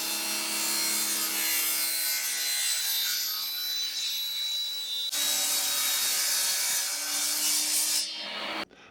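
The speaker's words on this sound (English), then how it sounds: "I purchased a 12 by 24 sheet of plexiglass and I cut it down into 2-inch strips" A sheet of plexiglass being sawn into 2-inch strips, giving a steady, close, continuous cutting rasp that runs without a break for several seconds before stopping abruptly.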